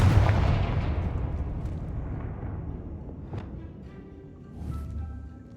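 A Confringo fire spell goes off in Hogwarts Legacy with a heavy blast up front, its boom fading into a long rumbling tail, and a softer second burst follows near the end.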